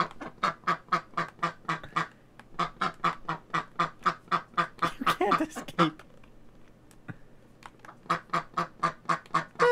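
Rapid rhythmic duck quacking from the Old School RuneScape game, a fast regular series of loud close quacks that briefly breaks up before resuming.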